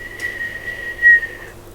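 A person whistles a single sustained, steady tone lasting over a second, imitating a sloth's whistle during a recited jungle poem about a jaguar and a sloth.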